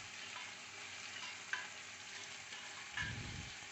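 Ginger and garlic paste masala fries in oil for bhindi do pyaza, a soft steady sizzle with a couple of faint spoon scrapes and one low stirring rumble, quiet and close.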